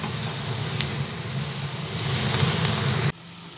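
Eggplant and onion stalks sizzle steadily in a pan as the curry is stirred, a close, even hiss that cuts off abruptly near the end.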